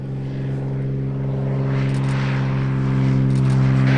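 A Hellcat aircraft lands on runway 36 left at EAA AirVenture Oshkosh, its engine a steady, loud drone that swells slightly as it draws nearer.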